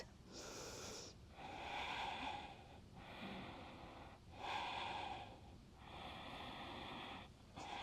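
Slow, deep breaths held through a yoga pose, several long airy exhales and inhales following one another at an even pace, close and soft with no talking.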